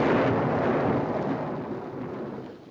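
Deep, sustained rumble of thunder rolling through a terrible storm, loud at first and slowly fading over a few seconds, with no voices.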